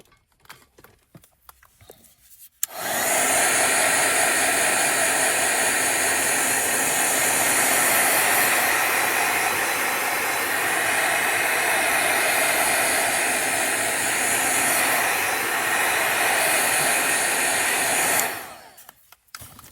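A hair dryer blows steadily on a journal page to dry oxidized ink, a loud continuous whoosh that starts abruptly after a couple of quiet seconds, runs about fifteen seconds alone, then cuts off.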